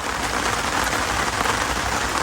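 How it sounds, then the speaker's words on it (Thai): Steady heavy rain pours down at a fishing camp by a tilapia pond, a dense continuous hiss of drops hitting surfaces, close and loud throughout with no voices. "ฝนตก สองชั่วโมงเลยครับ"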